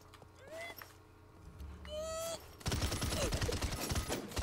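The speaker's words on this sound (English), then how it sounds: "I'm shooting a goblin" Rapid gunfire erupts in the video game Realm Royale while shooting a goblin, a dense loud barrage in the last couple of seconds following quieter game sounds and tonal effects.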